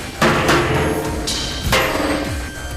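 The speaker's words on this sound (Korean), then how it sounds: "이번에는 대놓고 망치로 공격을 가하기 시작한다." A hammer striking a massive steel bank safe, a few heavy ringing metallic blows spaced apart, loud and close, each hit leaving a bright lingering resonance.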